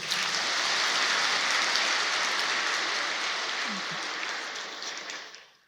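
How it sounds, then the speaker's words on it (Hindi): A seated audience at a Brahma Kumaris gathering in Shantivan claps vigorously in a dense, even wash of applause that holds steady, then tapers off quickly at the end. "जोर से ताली बजाओ।"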